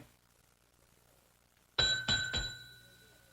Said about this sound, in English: Give that bell a whomp, Ellie.